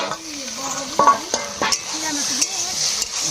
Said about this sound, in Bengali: আদা একটু কষিয়ে নেবো লতিটা।